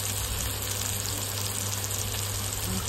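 Vegetables for masala idli fry sizzle in a pan, a steady, even hiss of frying heard close up without pauses or talking.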